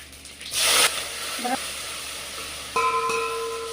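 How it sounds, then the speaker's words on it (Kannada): Onion, mustard seeds and curry leaves fry in hot oil as a tempering for thin drumstick sambar, with a loud hissing sizzle burst early on, a softer crackle after, and a steady electronic tone near the end. "ಈರುಳ್ಳಿ ಫ್ರೈ ಆಗಿದೆ"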